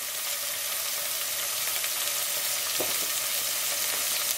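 Chopped tomatoes sautéing in a pan for a Goan egg curry with coconut milk give a steady, close sizzle that holds evenly throughout, with a brief stir-like scrape near the end.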